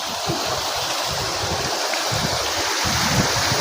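A waterfall in Darjeeling gives a steady, close rush of falling water, a broad even roar that does not let up, with some wind buffeting on the microphone.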